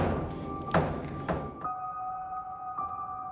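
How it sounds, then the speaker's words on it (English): Door banging inside a London Underground tube train in a tunnel: two or three loud thuds close by over a steady rumble of the running train, with a tonal hum persisting afterward. "I love the noise that the door makes. It's going to bang again."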